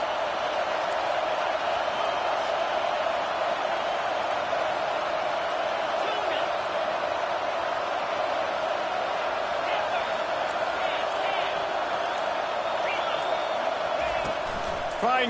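Steady, dense roar of a packed stadium crowd in the College Football 25 video game, holding loud and unbroken throughout a third-and-long play, with scattered cheers and whoops rising now and then.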